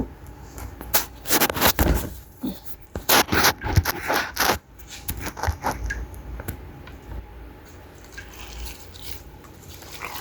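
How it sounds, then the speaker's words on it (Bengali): Duck meat being mixed by hand with spices and ginger-garlic paste, giving close, wet squelching and scraping sounds in irregular bursts, louder in the first few seconds and softer later, with no talking. "সব ধরনের মশলা দিয়ে নিলাম এখন এটাকে মাখাবো"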